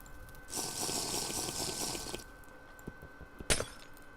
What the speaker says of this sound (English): Drink some water.